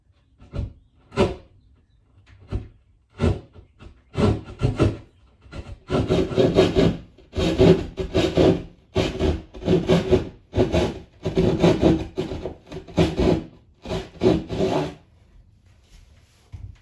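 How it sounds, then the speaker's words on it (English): Close, raspy strokes of a small hand saw cutting through drywall, starting with a few slow pulls then settling into a steady back-and-forth rhythm. "Little drywall saw."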